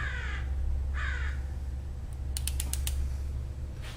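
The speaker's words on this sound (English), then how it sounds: "If it turns a while before it clicks" A torque wrench tightens a spark plug on a Honda S2000, giving a quick run of sharp, close ratcheting clicks partway through over a steady low hum.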